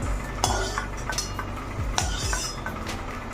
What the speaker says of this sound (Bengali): এই কপিগুলোকে তুলে নিলাম